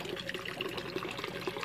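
Water pours steadily into a plant tub of duckweed and umbrella grass to flood it, making a continuous close trickle and gurgle with no break.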